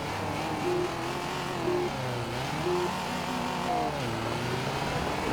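An unlimited Volkswagen race car engine in Baja Edge of Control circuit racing drones loudly and continuously, its pitch climbing and dropping with several gear changes over a few seconds.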